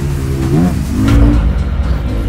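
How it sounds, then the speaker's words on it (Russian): Motorcycle engine in a mobile video game, a steady buzzing drone that rises and shifts in pitch as the bike passes by at moderate distance. The sound is alone, with no talking over it. "Там мотоцикл идет."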